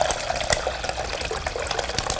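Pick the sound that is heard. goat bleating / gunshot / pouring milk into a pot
pouring milk into a pot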